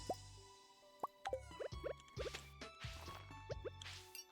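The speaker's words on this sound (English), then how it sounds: "All right, let's water a few crops." Crops watered with a watering can in Stardew Valley, a series of about eight soft, close splashy plops with tonal blips, repeated at a quick, slightly uneven pace, with no talking.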